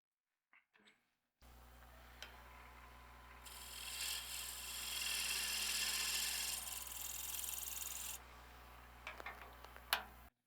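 A negative rake scraper cuts wood on a spinning lathe over a steady motor hum, producing a raspy scraping that builds to a loud stretch in the middle and then fades, with a few sharp clicks near the end.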